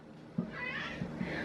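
A cat meows several times, short close calls over a faint steady background hum, with no talking.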